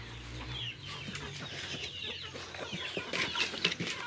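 Backyard farm chickens clucking and chattering close by, several birds making short overlapping calls as they wait for kale, with a faint low hum underneath.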